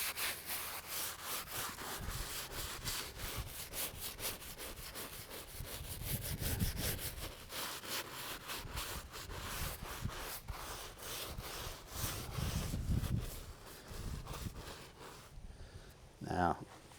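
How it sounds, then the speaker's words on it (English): A soft brush scrubs the polished surfaces of a headstone in a cemetery, rhythmic rubbing strokes close by with a few louder bursts, while a person talks over much of it. "I'm going to start off with a soft brush and hit these"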